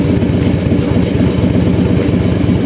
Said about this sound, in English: Take you for a little motorcycle ride.